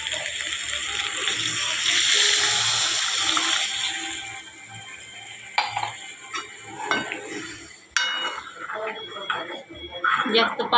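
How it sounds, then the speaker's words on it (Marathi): Water pours with a rushing gush into a cooking pan on a low flame for about four seconds, then gives way to quieter stirring, scattered utensil clinks and clatter. "पाणी टाकून घेतलं."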